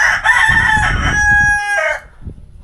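A rooster crows loudly and close, one long drawn-out call that breaks off sharply, followed by a few low thumps.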